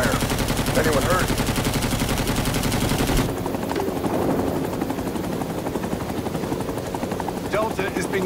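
A Huey helicopter in the Vietnam War game Rising Storm 2 comes under gunfire, the rotor drone steady and loud throughout with rattling bursts of shots, while voices talk over it.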